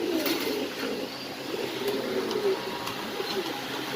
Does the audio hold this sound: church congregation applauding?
no